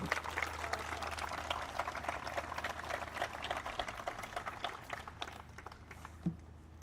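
A crowd at the unveiling of 'The Rise' memorial applauds its designers, a soft, distant, continuous patter of many hands that thins out and fades near the end.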